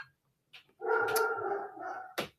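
A dog named Pookie barks indoors in a short burst: one brief yip, then a sustained loud bark-howl lasting over a second, followed by a final sharp bark, fairly close and alone.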